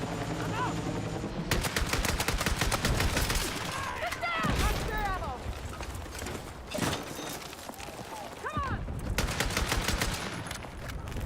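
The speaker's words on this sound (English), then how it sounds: "What are you shooting at?" Heavy automatic gunfire in a video game comes in loud repeated bursts with short pauses between them, mixed with game sound effects and voices talking over the shooting.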